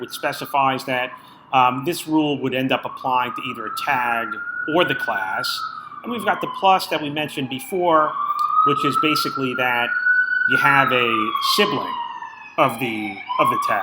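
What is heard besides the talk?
emergency vehicle sirens outside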